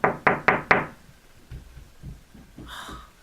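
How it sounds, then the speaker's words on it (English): Four quick heavy thumps of feet stomping on a floor open the moment, evenly spaced and close. Softer, duller footfalls and a brief higher noise follow. "I don't know if you can hear the feet."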